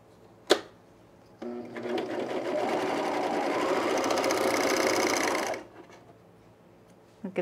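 A sewing machine stitching cargo shorts in reverse, starting with a sharp click and then a loud, fast, even mechanical whir for about four seconds before stopping, followed by quiet handling noises.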